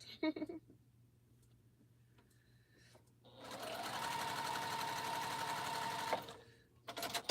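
A sewing machine stitches a quilt seam joining pieces of an African map quilt, a steady close run of about three seconds following some soft handling noise, with light talk nearby.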